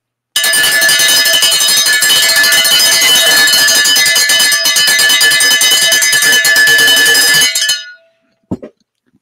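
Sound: cowbell being rung

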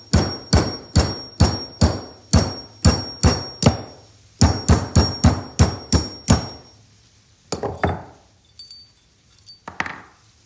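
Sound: hammering a punch to split wood from an axe handle

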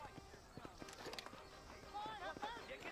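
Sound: horse hooves in Red Dead Redemption video game

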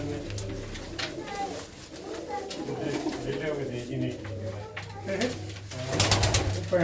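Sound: pigeons cooing

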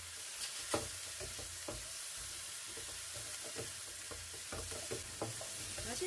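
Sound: stir-frying kimchi fried rice with soy sauce

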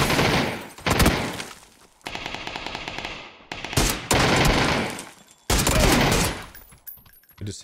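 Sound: gunfire from PUBG video game, headshot

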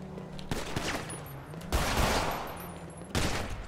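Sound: gunshots in GTA RP video game

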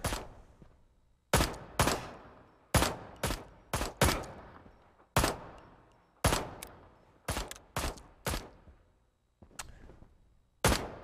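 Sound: gunfire in video game Ride to Hell: Retribution

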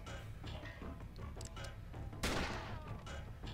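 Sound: gunshots in the video game SteamWorld Heist

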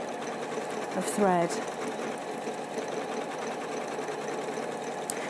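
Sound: Elna 780+ sewing machine stitching decorative circles

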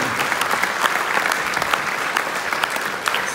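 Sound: audience applause

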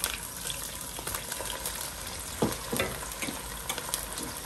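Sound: water poured into a hot pan of frying onions and spices

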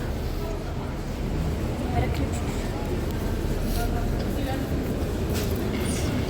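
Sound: tram

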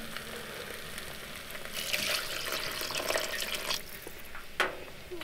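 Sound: water being poured into a cooking pot

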